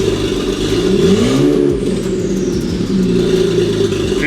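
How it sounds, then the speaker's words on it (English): A BMW 535xi E60 engine revs up and settles back down, a loud, close mechanical drone with a rising and falling pitch and light clatter, heard alone with nobody talking. "It sounds like it's revving good."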